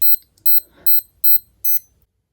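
A fake Casio G-Shock GMW-B5000 metal Bluetooth watch sounds its alarm as four short, high, thin electronic beeps, evenly spaced and clear with nothing else around them.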